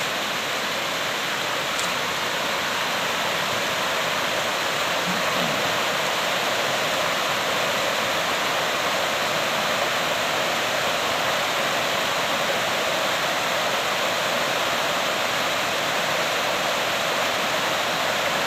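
Water of a creek crossing on the Kokoda Track rushes steadily and loudly over rocks, a constant broadband roar with no pauses throughout.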